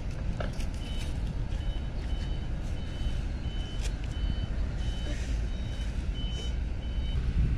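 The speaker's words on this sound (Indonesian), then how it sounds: "Lihat ya, bis transport diputar balik." A shuttle bus reverses at Bakauheni port, its repeated reversing beeps sounding over a heavy, continuous engine rumble and busy port background noise.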